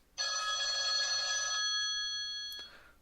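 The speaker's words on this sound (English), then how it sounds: "This anti-lose feature, basically it's gonna sound something on the phone." A phone sounds a bright, sustained electronic ring, triggered remotely through a smartwatch's anti-lose feature, heard fairly close and alone for about two and a half seconds before fading.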